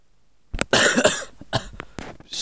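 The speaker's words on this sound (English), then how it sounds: "Just a lot of coughing though." A sick person coughs several times in a row, harsh bursts spread over a couple of seconds with a brief throat sound, close to the microphone with no talking.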